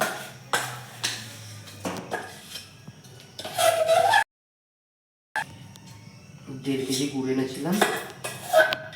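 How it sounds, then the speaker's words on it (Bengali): A spoon scrapes and clanks against a wok while puffed rice is stirred with jaggery, irregular metallic knocks and rustles close by, with a short silent gap midway and voices talking around it. "আবার গুড় দিচ্ছি কড়াইয়ে খই পাক দেবো"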